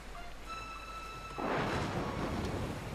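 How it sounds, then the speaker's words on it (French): Rain sweeps in as a storm approaches in the video game Dragon Quest Builders 2: a few soft chiming tones, then a sudden broad, steady wash of falling rain that continues to the end. "Ah, il pleut."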